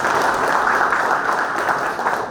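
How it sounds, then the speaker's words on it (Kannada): A large audience at a felicitation ceremony breaks into loud, dense applause that holds steady without a break, with no talking. "ಒಂದು ಜೋರಾದ ಚಪ್ಪಾಳೆ"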